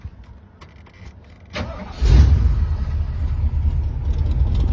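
A 1977 Jeep CJ5 with a 304 V8, headers and side pipe exhaust cranks briefly, then catches and settles into a loud, deep rumbling idle close by.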